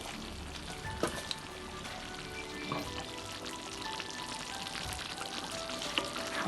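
Chicken simmering in a pan for kuzi, a steady close sizzle and bubbling with occasional soft clicks and stirring sounds, no talk.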